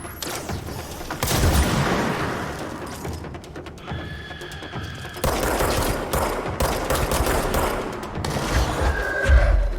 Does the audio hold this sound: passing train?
no